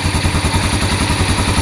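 Yamaha Vega motorcycle engine running just after a kick start, a steady, fast rhythmic putter at close range, loud and continuous with no talk.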